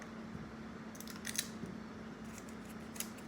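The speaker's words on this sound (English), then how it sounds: "we can just cut off a portion of our paper" Scissors snip through paper in a few quick, quiet cuts against a soft steady hum, with no talking.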